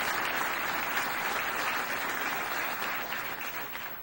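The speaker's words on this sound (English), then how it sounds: "Let's give him a warm round of applause." Warm, steady applause from an audience at a lecture gathering, a dense even wash of clapping that holds throughout and tapers slightly near the end.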